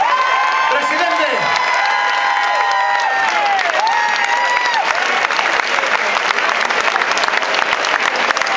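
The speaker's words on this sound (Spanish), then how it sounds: "un fuerte aplauso a Joaquín Luque, presidente" Loud concert audience applause at a farewell show for a tribute band at Apolo Barcelona, dense continuous clapping with some cheering, and a sung or held voice rising over it at the start.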